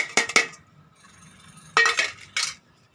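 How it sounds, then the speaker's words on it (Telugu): Tamarind chutney with red chillies being pounded in a mortar: a pair of sharp clinking thuds, a pause, then two more clustered knocks, fairly close and clear with no talk. "చింతకాయ పచ్చడి కూడా చక్కగా మెత్తగా దంచుకుందామండి"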